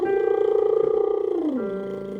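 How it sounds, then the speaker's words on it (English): A lip buzz (lip trill) glides smoothly from a low note up to a high one and back down as a vocal warmup, a steady fluttering tone sounded alone and close. "we're going to start off with a slide from the bottom note to the top note and back down on a lip buzz"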